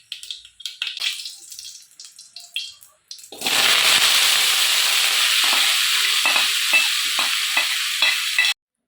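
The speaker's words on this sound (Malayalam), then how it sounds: "അതിനകത്തേക്ക് മുളക് പൊടി മല്ലിപ്പൊടി മഞ്ഞൾ പൊടിയും കൂടെ ഒന്ന് ചെറിയ തീയിൽ വെച്ചിട്ട് വറുത്തെടുക്കുവാണേ" Chili, coriander and turmeric powders roast in a pan over a low flame, a steady sizzle with stirring scrapes that starts abruptly after a few seconds of scattered kitchen clatter, then continues close and even before cutting off.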